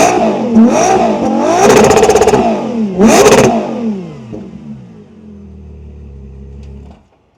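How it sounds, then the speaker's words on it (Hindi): A Ferrari Purosangue's V12 engine revved hard several times, rising and falling in a loud, close, harmonically rich howl with a sharp peak near the middle, then settling to a low rumbling idle before cutting off. "V12 इंजन की साउंड जो है वो सुनानी तो बनती है।"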